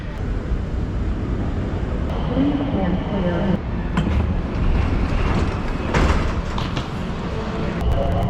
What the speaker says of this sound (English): Behind me are the Aero trains, which take you to the various terminals.